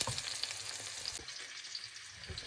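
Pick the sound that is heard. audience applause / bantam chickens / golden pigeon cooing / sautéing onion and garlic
sautéing onion and garlic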